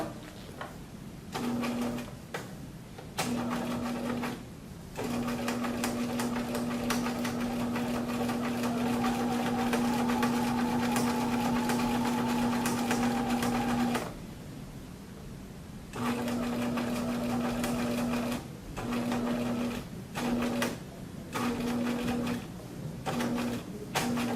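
Sewing machine stitching a half-inch seam down to a corner, running in steady bursts: long continuous runs broken by short stops and brief restarts, close and clear with a steady whirring hum.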